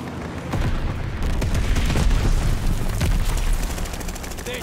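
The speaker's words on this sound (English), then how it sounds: "Allies calling a mortar barrage!" Mortar barrage and gunfire in the game Call of Duty Vanguard: heavy booms and rapid shots rolling on continuously, loud and dense, with no clear talking over them.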